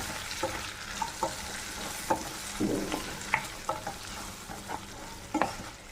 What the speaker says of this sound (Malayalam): പൊടിക്കകത്ത് നല്ലോണം പൊടി ഒന്ന് എണ്ണയ്ക്കകത്തൊന്ന് മൂത്ത് വരട്ടെ